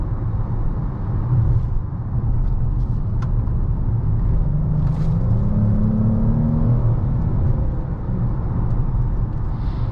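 A 2021 Dodge Charger GT driving through a corner, heard from inside as a steady loud road rumble and engine drone with a rising tone partway through, no talking.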